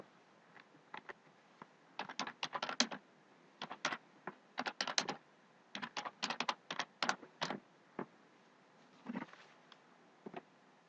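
Fingers type a file name on a computer keyboard in quick bursts of soft key clicks with short pauses between, close and quiet in an otherwise silent room.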